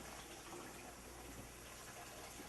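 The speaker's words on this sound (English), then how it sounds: "Get hot water from the tap." Hot water runs steadily from a kitchen sink tap, a constant faint gushing stream with no break.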